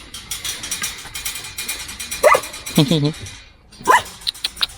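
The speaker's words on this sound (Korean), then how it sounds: "너도 나오고 싶어서 짖은 거지?" A dog outdoors in a yard with a pond gives a few short, sharp barks and yips up close, spaced out over several seconds, with a steady background hiss and a person talking now and then.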